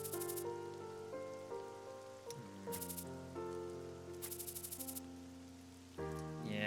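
Heavy summer rain falls in the Troubleshooter video game, a soft steady patter beneath prominent tonal music with bright chime-like accents.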